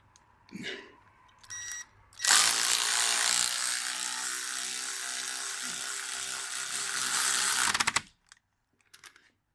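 Power tool bolting a rusty old differential part back on: a few short clicks and a whir, then a long loud rattling impact-gun burst of about six seconds, ending abruptly before quiet clicks.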